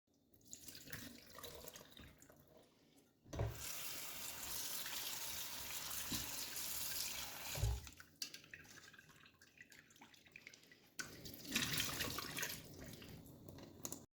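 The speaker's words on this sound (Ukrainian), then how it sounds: "промиваємо рибу знову під холодною водою" Cold water runs steadily from a tap over carp being rinsed, with splashing and dripping, pausing briefly a couple of times before flowing again, close by with no voices.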